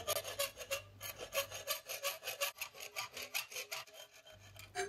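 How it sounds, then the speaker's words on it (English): A hacksaw cuts the corners off a workpiece clamped in a vise, with steady, rhythmic back-and-forth rasping strokes, close and alone. "It's possible to cut quite close to the radius with a hacksaw blade, but not as tight as I need to be"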